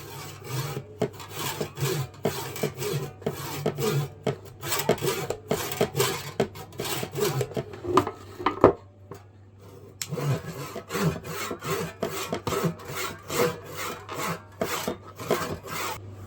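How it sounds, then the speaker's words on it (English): A ToughBuilt folding pull saw rasps through wood in quick, steady back-and-forth strokes, pausing briefly midway before the rhythmic cutting resumes. "I'm just using this tough built folding pull saw"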